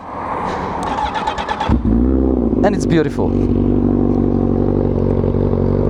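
A Honda Fireblade motorcycle engine fires up and settles into a loud, steady rumbling idle with a couple of throttle blips, after someone speaks briefly.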